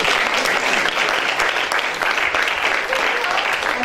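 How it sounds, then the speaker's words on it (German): Audience at an award ceremony applauding, a dense, steady wash of clapping from a large crowd that continues evenly throughout. "Nochmal einen Applaus,"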